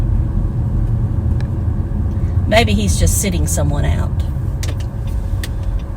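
Steady low rumble of a car driving slowly through a parking lot in search of a space, heard from inside the cabin and continuous throughout, with a person talking briefly over it.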